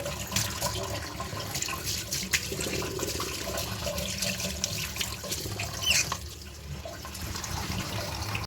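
Boiled noodles sit in a pot while tap water runs over them, a steady close rush with faint splashing and clatter throughout.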